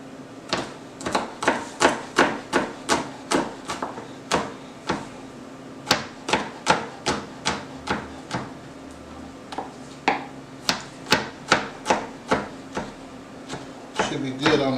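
Knife chopping garlic cloves on a cutting board in a home kitchen, a steady run of crisp, close, evenly spaced taps with brief pauses between bursts.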